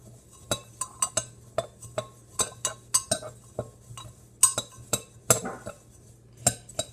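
A spoon stirring maple sugar into homemade instant oatmeal, a run of sharp, evenly spaced clinks and scrapes against a bowl, close and fairly quiet.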